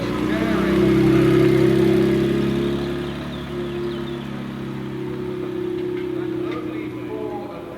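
A high-performance car idling at the Villa d'Este concours parade, cars such as the CLK GTR and MC12 Corsa, a steady low engine hum that swells briefly then settles, with someone talking over it.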